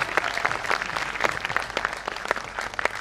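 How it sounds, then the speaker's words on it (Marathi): A crowd claps steadily for teachers at an award ceremony, dense overlapping handclaps that sound fairly close and keep a constant level throughout. "एकदा जोरदार टाळ्या त्या शिक्षकांसाठी"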